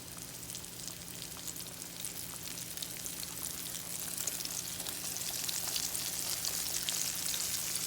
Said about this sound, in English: As you can see, I'm doing a shallow fry. It's not deep at all.